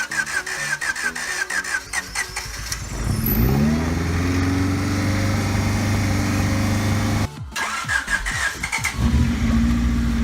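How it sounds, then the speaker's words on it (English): A rebuilt Honda Prelude B20A5 engine cranks in short bursts, then catches and settles into a loud, steady idle, cuts out briefly and restarts with more cranking. "The mighty B20A5 was running again and without any overheating issues at all."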